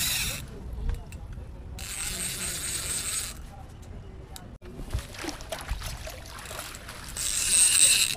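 A fishing reel ratchet clicks in rapid bursts as a fish is reeled in on a rod at a pond in the rainy season. The clicking is moderately faint and broken by short pauses.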